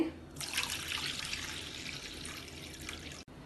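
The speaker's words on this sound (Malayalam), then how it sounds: "ഞാനിപ്പോൾ 3 കപ്പ് വെള്ളം ഒഴിക്കുന്നുണ്ട്" Water pouring from a cup into a pot of rasam, a soft steady splashing stream that starts after a brief pause and runs for a few seconds before ending, quiet and without talk.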